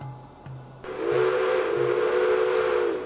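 A steam locomotive whistle from the video game Railway Empire sounds as one loud, sustained, steady blast lasting over two seconds. A few soft low pulses come just before it.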